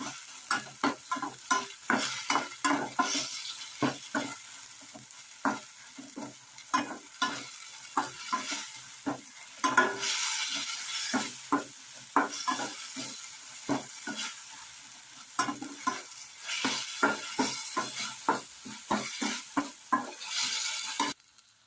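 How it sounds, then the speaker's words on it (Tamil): Tomatoes go into a pan with ginger-garlic paste for an appalam kootu, and a spoon stirs them in repeated quick scrapes and taps over a soft sizzle, fairly quiet and close. "நம்ம தக்காளி சேர்த்துக்கலாம். போட்டு நல்லா வதக்கி விட்டுறலாம்."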